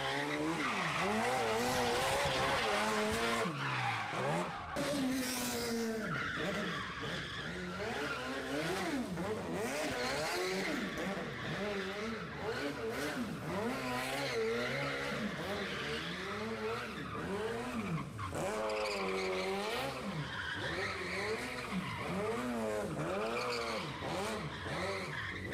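Custom-built off-road car, made from scratch, drifting hard with continuous loud tire squeal and skidding over a steadily revving engine, sustained and close throughout.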